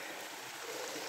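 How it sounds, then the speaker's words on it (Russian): A mountain stream pouring down a cascade of small waterfalls in a ravine, heard as a steady, even rush of water without voices. "Начинаются вот такие каскады водопадов."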